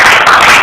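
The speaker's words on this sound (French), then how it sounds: "je vais demander à ce qu'on l'applaudisse très fort pour ce monsieur" A crowd applauding loudly in honour of Papa Mwando Simba at a gathering, a dense, steady wash of clapping that fills the brief moment without voices.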